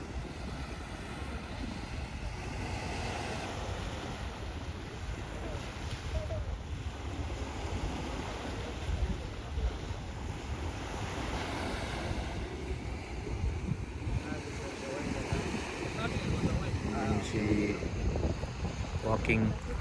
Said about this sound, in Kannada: ಸಮುದ್ರ ಬಾರಿ ಶಾಂತವಾತುಂಡು